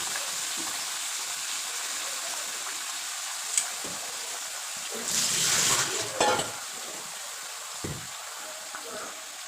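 Vegetables hit hot oil with a sudden loud hiss that fades into a softer sizzle, a few scattered clanks around it, while someone talks over the cooking.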